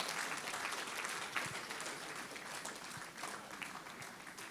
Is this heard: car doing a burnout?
no